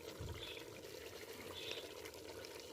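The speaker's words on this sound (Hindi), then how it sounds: "अब हम इसमें पानी शामिल कर देते हैं" Water is poured into a pot of beef paya that has been frying, giving a faint, steady trickling wash throughout.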